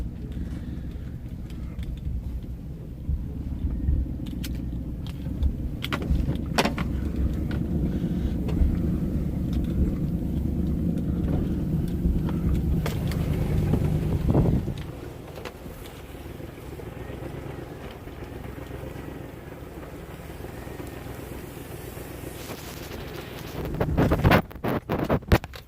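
A vehicle towing a bait trailer drives through rough trapping country, a steady low engine and road rumble with wind buffeting, easing quieter midway before rising again near the end.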